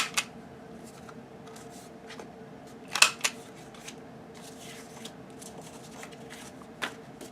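Scissors cut the corners of fabric album paper, a few crisp snips and rustles spaced irregularly, with one louder snip near the middle, close and alone.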